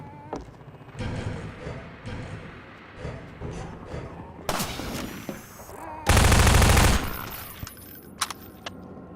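Sniper gunfire in a Half-Life 2: Episode Two mod, heard as scattered sharp shots and impacts, with a loud burst near the end.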